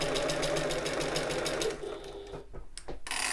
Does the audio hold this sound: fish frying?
no